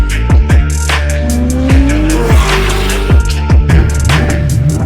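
Race cars at Sonoma Raceway roar past in quick succession, engines rising and falling loudly and close, with sharp revs and tire noise.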